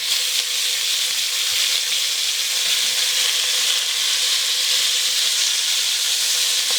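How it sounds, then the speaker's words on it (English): Pieces of beef short rib searing in a hot pan, a steady, loud sizzling hiss that holds evenly throughout with no voices over it. "And what we're trying to do is brown the meat on both sides."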